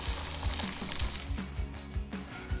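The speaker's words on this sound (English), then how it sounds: "we're going to cook it off for about a minute and a half each side until it's cooked through" Mackerel fillet frying in a hot pan, a steady close crackling sizzle with irregular spits and pops throughout, no voices.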